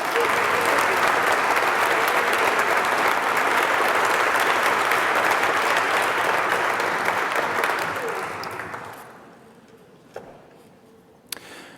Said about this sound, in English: we want just for a moment to please recognize by applause